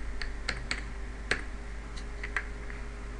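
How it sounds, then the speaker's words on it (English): Keys tapped on a computer keyboard while entering text, a handful of separate light clicks spaced irregularly over a steady low hum, fairly quiet and close. "we just click here and create a text and we type text."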